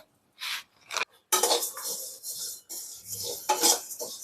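Fennel seeds, about 150 grams, dry-roasting in a pan for homemade kurma masala, giving dry rustling scrapes and light metallic clinks in uneven bursts with brief pauses, close and moderately loud.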